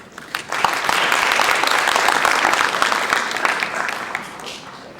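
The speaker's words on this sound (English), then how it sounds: "Big round of applause for him." Audience applause for the translator at the Miss Nepal US 2013 pageant question-and-answer round, a dense crowd clapping that swells and holds steady for several seconds before tapering off.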